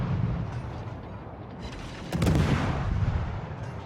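Naval guns of the destroyer Gearing fire in World of Warships, a loud booming salvo landing about halfway through over a steady low battle rumble, with no one talking.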